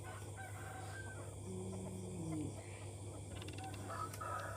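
Chickens cluck and a rooster crows amid a steady low hum, with faint bird calls scattered through the background.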